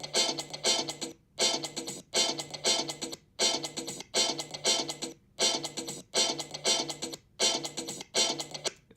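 A looped sample of the sharp, attacking guitar from a funk song, with a bongo, repeats in evenly spaced choppy bursts separated by short silences, punchy and rhythmic at moderate volume.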